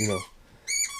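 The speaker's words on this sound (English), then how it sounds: "That's my dog squeaking on a toy." A dog squeaks a squeaky toy indoors, two sharp high-pitched squeaks separated by a short pause, close and clear with nothing else heard.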